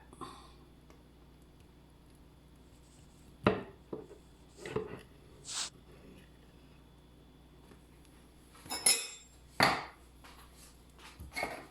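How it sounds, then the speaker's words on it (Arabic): A knife slices through a Swiss roll cake decorated as a tree log, giving a few soft, quiet cuts and taps against the board, spaced apart with short scraping strokes and long quiet gaps between them. "المهم دابا غادي نقطع لكم واحد الطريف"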